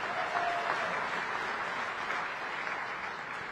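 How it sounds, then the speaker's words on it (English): Sustained audience applause at the 44th SADC heads of state summit, greeting prize winners from Lesotho; a dense, steady wash of clapping from a large crowd that carries on throughout. "Please give the winners another round of applause."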